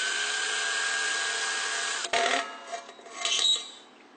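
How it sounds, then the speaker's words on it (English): An electric drill bores into a center-punched mark on the metal casing of a heating furnace, giving a steady whine for about two seconds before it stops, followed by a few scraping clatters. "I center punch the mark and then drill."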